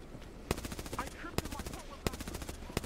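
Rapid bursts of gunfire ring out at a shooting event, with sharp loud shots recurring in clusters over a continuous crackle of fire and faint voices in the background.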